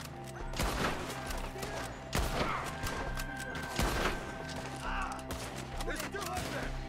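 Gunfire in a Red Dead Redemption 2 shootout: three heavy, sharp shots cracking out at roughly even intervals over a steady droning score, with fainter scattered reports between them.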